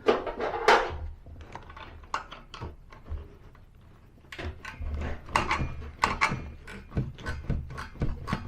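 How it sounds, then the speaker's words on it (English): A 13mm ratchet spanner works loose a stubborn exhaust nut on a classic Mini, making close, uneven bursts of clicking and metallic knocks with brief pauses between strokes. "using the 13mm ratchet spanner to get in there to free it off"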